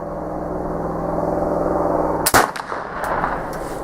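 A Traditions pellet flintlock rifle fires one sharp, loud shot partway through, with a brief crackle and echo trailing off after a steady background hum.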